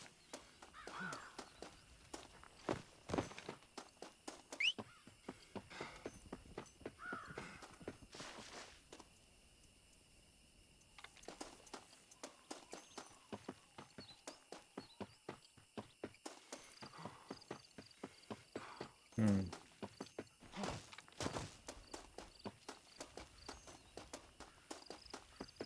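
A horse's hooves clip-clop steadily in a video game, a brisk rhythmic trot that pauses briefly midway and then resumes, close and clear, with faint crow-like caws in the background.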